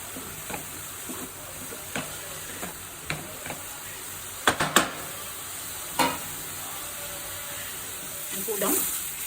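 Veg momo filling being stir-fried with spring onions, a soft sizzle under intermittent scraping and stirring clicks of a spatula in the pan, with a few sharper knocks.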